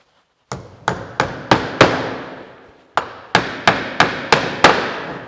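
Cross-pein hammer driving clout nails into a traditional sliding sash window, heard as sharp, close metallic strikes: a run of five evenly spaced blows, a brief pause, then six more, each ringing out slightly.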